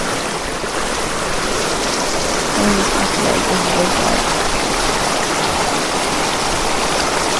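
Steady rushing river water in a low-res indie video game, a loud, broadband wash that runs constantly with no breaks while a person talks briefly over it.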